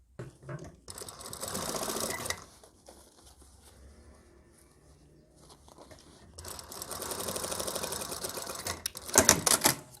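Sewing machine stitching hat fabric in two rapid mechanical bursts of clattering needle strokes, separated by a quiet pause, close up and loud.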